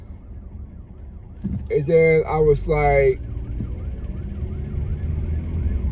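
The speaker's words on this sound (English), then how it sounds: "I hear the ambulance or fire department." An ambulance or fire truck siren wails in the distance, a faint rising and falling tone behind a brief spoken remark, continuing quietly after the voice stops.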